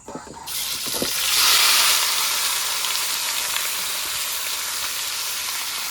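Marinated pangas fish drops into hot oil tempered with dried red chillies, bay leaves and whole cumin, setting off a loud, steady sizzle with a brief clatter at the start, then a continuous bright frying hiss.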